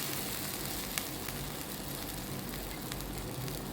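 A pot of Kerala fish curry broth with soaked tamarind and salt boils steadily, a constant dense bubbling and sizzling hiss with a few faint pops and no voices.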